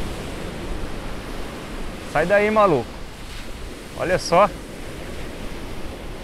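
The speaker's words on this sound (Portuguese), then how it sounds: "O mar tá bem brabo, a maré tá um pouco alta" Rough sea surf rolls onto a beach in Bahia at fairly high tide, a steady broadband roar heard throughout, with someone speaking briefly twice over it.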